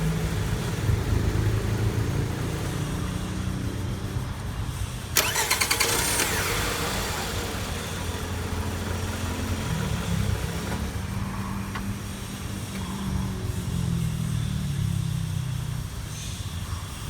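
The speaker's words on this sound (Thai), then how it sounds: "จะทำการสตาร์ทเพื่อจะเทสทดสอบ ว่า ที่เราเปลี่ยนไปใช้งานได้ไหม" A Toyota ACV30 car engine starting after a starter motor replacement: a short cranking burst catches and the engine settles into a steady, close idle that runs on to the end.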